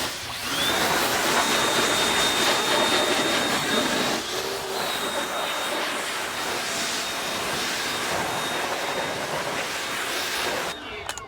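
Water spray rinsing cleaner off car wheels and tires gives a loud, continuous hissing rush with a thin steady whine above it, briefly shifting midway as the spray moves.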